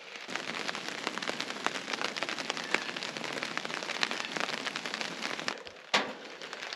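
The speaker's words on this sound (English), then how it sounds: "Thought it stopped raining, but man, it didn't." Rain falls steadily at a camp in the North Maine Woods, a dense, even patter of drops on surfaces heard close by, with one sharper tap near the end.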